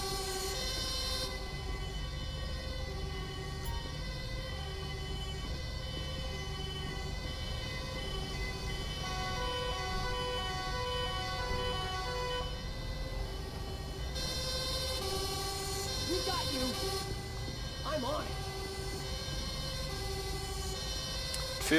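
A fire truck siren in GTA 5 wails continuously and loudly for the whole stretch, its tonal sweeps layered with steady engine rumble, while the horn pattern shifts partway through. No voices are heard.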